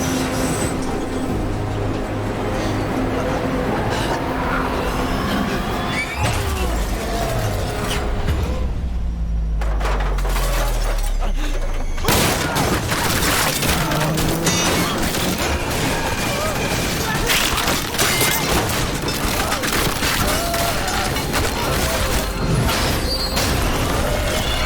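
A train crashing and shredding apart in an animated superhero fight, a loud dense barrage of crunching metal, booms and rumble that swells after a brief low lull, with voices mixed in.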